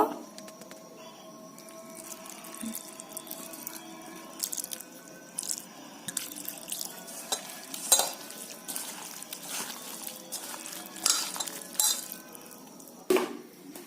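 Water trickles into chicken pakora batter while it is mixed by hand, making wet squelching and dripping sounds with occasional clinks of the bowl, close and moderately loud, with no voices.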